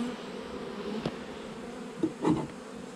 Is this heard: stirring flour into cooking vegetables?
no